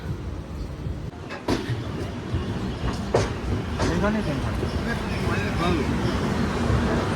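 A train at Lumding railway station, with a broad rumbling platform din, scattered metallic clanks and knocks, and people talking nearby throughout.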